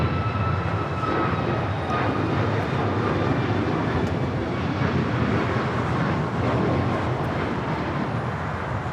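An airliner departs from LAX, a loud steady jet roar filling the whole stretch, heard from a distance with no variation in intensity.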